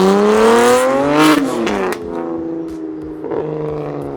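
A loud car engine revs hard, its pitch climbing and then dropping in long surges, with a sharp crackle near the peak.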